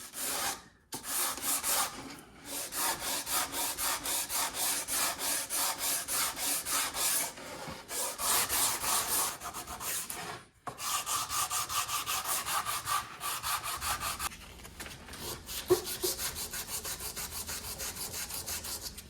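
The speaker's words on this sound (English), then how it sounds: "with 180 grit sandpaper on just a simple sanding block, and I'm going to work this by hand" Steady rhythmic rasping of 180-grit sandpaper on a sanding block rubbed back and forth over wood by hand, close and continuous with brief pauses between strokes.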